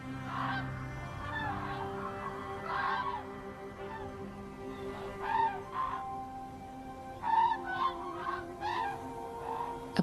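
Tibetan black-necked cranes calling on a high plateau during migration, a flock of honking, trumpeting cries rising in repeated clusters over a steady background, moderately close with no talk.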